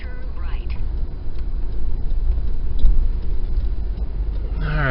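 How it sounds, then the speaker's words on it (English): A car driving through the streets of Jeddah, with a steady low engine and road rumble heard from inside the cabin, and people talking over it. "So we're driving in the dirty car."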